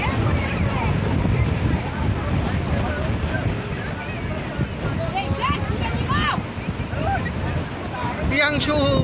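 Rough sea on a beach at Sankarpur, with a continuous roar of surf and wind buffeting the microphone, while faint voices and cries sound in the background throughout.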